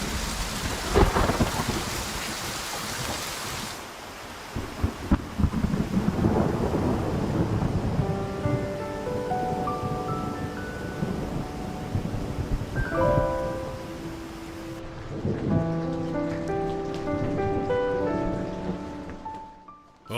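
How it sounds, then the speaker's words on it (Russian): Steady rain pours onto surfaces, and several loud rolls of thunder rumble through the downpour across the whole stretch, with no voices heard. "идет дождь"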